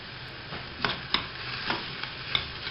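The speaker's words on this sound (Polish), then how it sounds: "od tego momentu już bardzo króciutko smażę" Steady frying sizzle from a pan of sausage, onion and garlic, with a few soft scraping stirs cutting through at irregular moments.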